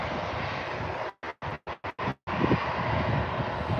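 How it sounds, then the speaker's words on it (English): A KLM airliner taking off at Birmingham airport, a steady, distant broadband jet roar that cuts out in several brief gaps before returning. "Just waiting for that KLM to get some distance as it's just taken off."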